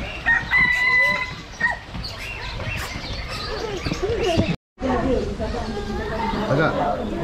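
A rooster crows loudly near the start at Puteri Beach, Melaka, its drawn-out harmonic call rising over Malay chatter, with people talking and background noise continuing afterward.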